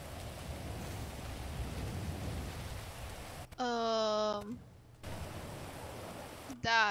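Steady hissing rain falls in GTA 5 FiveM roleplay, a dense wash of noise, broken twice by short voiced sounds.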